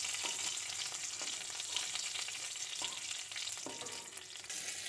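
Black cumin seeds crackle and spit in hot oil in a home kitchen, a steady close sizzle broken by small sharp pops, with no talking.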